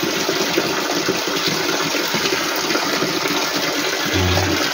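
Strong water rushes over small falls in a continuous loud, broadband gush with no break and no voices, and a brief low thump near the end.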